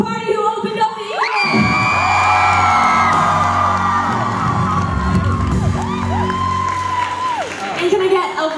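A live concert crowd at Hamilton Place roars for the evening's opening act, with loud sustained cheering, whoops and high-pitched shouts layered over applause, swelling after the first second and staying dense and close throughout.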